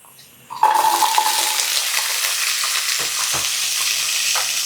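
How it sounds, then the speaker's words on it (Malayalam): Small shallots dropped into hot coconut oil for Kerala-style ulli sambar, a sudden loud sizzle after a quiet start that settles into steady close frying with a few stirring knocks. "ക്ലീൻ ചെയ്ത് വെച്ചിരിക്കുന്ന ചെറിയ ഉള്ളി ഇതിലേക്ക് ഇട്ട് കൊടുക്കാം"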